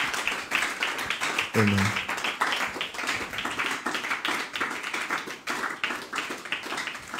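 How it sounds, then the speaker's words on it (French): A church congregation claps for Jesus during a bilingual French and English prayer service, a steady stretch of crowd clapping with voices calling out over and under it. "Clap for Jesus."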